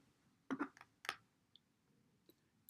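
A few close key presses on a Mac computer keyboard while typing into Spotlight search, two quick clustered bursts of clicks followed by a couple of faint isolated taps, quiet and with no voice.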